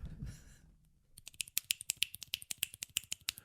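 Crisp finger snaps repeat quickly, in a dense and fairly loud series. A low rumble comes before them, and no voices are heard.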